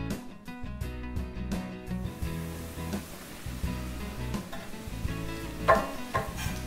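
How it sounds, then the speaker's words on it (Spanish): Mushrooms torn by hand sizzle and fry in a hot pan, a steady crackling hiss running throughout with a few clinks and louder spits near the end. "Troceamos las setas con la mano y las añadimos a la sartén."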